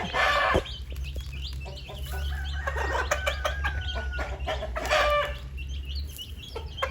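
Backyard chickens with black and white chicks pecking at scattered rice grit, clucking and calls up close with a rooster crowing amid scratchy feeding noises and no talk.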